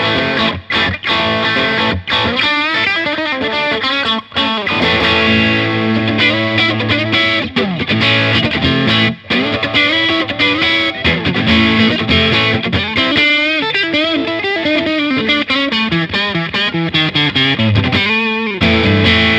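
Electric guitar run through a Chevtone Preacher Drive overdrive pedal dialed toward a tweed amp tone, with the gain eased back and the volume raised. Continuous, loud, crunchy driven chords and note runs play without a break and with no talk.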